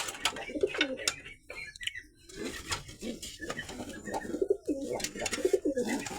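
White domestic pigeons coo in a loft, a throaty rolling call repeated several times close by, mixed with light patter and rustling of wings.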